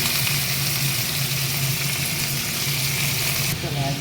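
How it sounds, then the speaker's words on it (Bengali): Potato, capsicum and carrot dropped into hot oil in a home kitchen pan, a loud continuous sizzle and crackle of frying that holds steady throughout, close by. "তেলটা গরম হয়ে গেছে, দিয়ে দিলাম আলু, ক্যাপসিকাম,"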